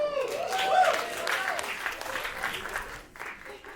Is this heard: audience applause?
yes